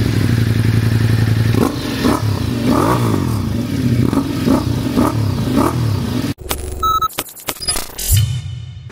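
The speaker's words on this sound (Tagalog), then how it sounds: "Ayun o, lagi na sound check yan si JP ng motor ko." Ducati Multistrada V4 Rally exhaust being revved in a workshop, repeated throttle blips over a rumbling idle, close and loud, ending with clattering mechanical noise.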